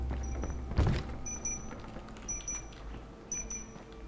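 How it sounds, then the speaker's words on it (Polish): An electronic alarm sounds inside a post office in the video game Dying Light, short high beeping pairs repeating about once a second over a low background hum, with no talking. "Wyłącz alarm. Ale gdzie jest alarm?"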